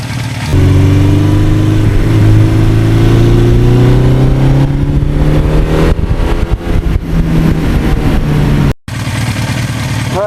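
A 1982 Suzuki GS1100E motorcycle engine running up close and loud, a steady mid-pitched growl whose pitch climbs gradually as it revs, then settles, with a sudden brief cut near the end.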